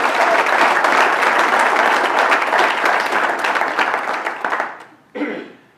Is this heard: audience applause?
yes